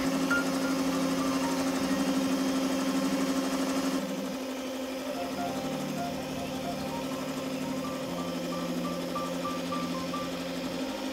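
A hand mixer beats marble cake batter in a bowl, humming loudly and steadily with a shift in pitch partway through, while a voice speaks over the motor.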